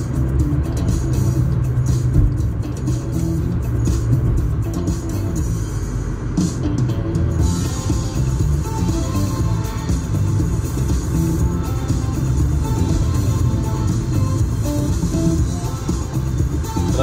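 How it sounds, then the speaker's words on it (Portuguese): Traffic sits jammed on the Via Expressa in Maceió on a sunny day, with a steady road rumble of idling and creeping cars that holds close and constant throughout and has no clear individual passes. "O trânsito tá travado aqui, a gente tá bem distante do final da Via Expressa."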